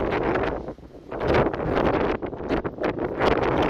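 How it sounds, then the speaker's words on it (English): Steady, heavy wind buffets the microphone in broad rumbling gusts on the Wales coastal path near Holyhead, with a brief lull before the roar picks up again. "It's very windy today."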